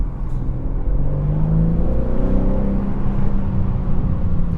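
A 2021 BMW M3 Competition revving under part throttle while accelerating, a deep, rising engine growl heard from inside the cabin that climbs through the revs for several seconds with no talking.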